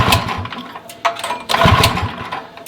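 A small gasoline engine sputters and coughs in short uneven bursts as it tries to start after a dose of starting fluid, loud and close.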